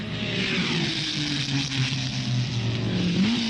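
Vintage open-wheel race cars at the 1961 New Zealand Grand Prix roar past in a continuous loud engine drone, the pitch rising and falling as they pass, with a higher whine climbing near the end.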